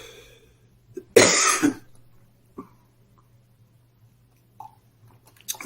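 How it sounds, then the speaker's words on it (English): A smoker's cough during an online webinar: one harsh, raspy burst of several hacking coughs close to the microphone, followed by a few faint throat sounds and breaths over a low steady hum. "That's a smoker's cough."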